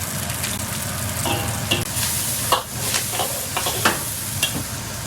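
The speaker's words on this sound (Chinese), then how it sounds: "葱姜蒜小米辣爆香。" Scallion, ginger, garlic and chili stir-fry in hot oil in a wok, a loud continuous sizzle broken by several scraping stirs and clacks of the spatula, close up with no talk.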